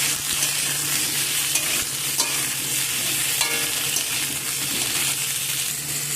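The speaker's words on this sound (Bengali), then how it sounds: "এখন এর মধ্যে দিয়ে দিলাম আমগুলোকে দিয়ে আমি এখানে একটুখানি নাড়াচাড়া করে নেব।" Mango pieces stirred in a hot frying pan give a steady, dense sizzle with scraping and occasional light clinks of the spoon against the pan throughout.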